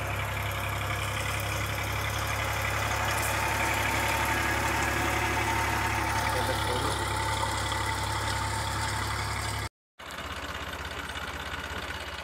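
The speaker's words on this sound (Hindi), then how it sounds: "बहुत बढ़िया जुगाड़ है ये ट्रैक्टर का" A plain Massey tractor modified for trench sugarcane planting idles steadily in a field, a loud, even mechanical chugging with a knocking rhythm that continues with a brief cut near the end.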